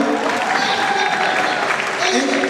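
Audience applause for an MC at a motivational speech event at MKU, a steady clapping wash lasting the whole moment with a voice talking over it.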